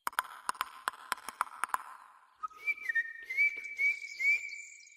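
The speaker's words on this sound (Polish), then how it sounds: "Pogwizdywał kos." A few sharp taps sound first, then a blackbird's clear melodic whistle rises and wavers in short phrases, alone in a quiet setting, read in an audiobook.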